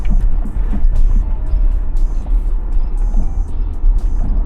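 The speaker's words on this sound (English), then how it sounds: "So far, the Armada is driving wonderfully." Nissan Armada SUV driving along a Colorado Rocky Mountain road near Boulder, a steady low engine and road rumble filling the cabin continuously without letup.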